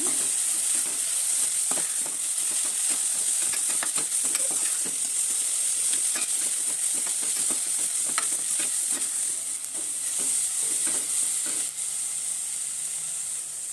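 Salted tomatoes sizzling in a pan while being stirred, a steady frying hiss with frequent scraping stir strokes throughout, close and alone with no talk.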